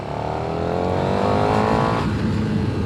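A 2020 KTM 1290 Super Duke R motorcycle with a Euro 5 exhaust, its engine revving up in a rising, throaty pitch, then easing off briefly before building again, loud and close with no talking.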